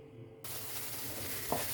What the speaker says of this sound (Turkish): Soğanlarımız pembeleşene kadar kavuruyoruz.